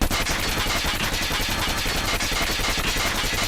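The Krig 6 assault rifle fires in Call of Duty Mobile as one dense, continuous stream of rapid shots, loud and steady throughout, with no speech.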